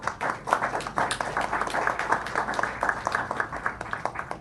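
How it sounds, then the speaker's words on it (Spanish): An audience at an academic conference applauds the head table, a steady, moderately distant patter of many hands clapping that holds evenly throughout. "Fuerte aplauso para la mesa de honor."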